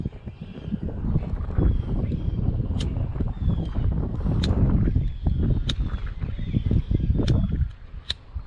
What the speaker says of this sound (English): It's windy out here today.